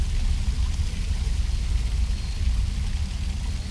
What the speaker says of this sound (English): Water is already seeping through the crack.